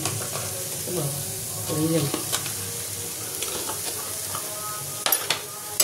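Butter sizzling in a pan with browned onions for a Bengali-style coriander chicken, a steady frying hiss with occasional stirring clinks and a few louder sputters near the end.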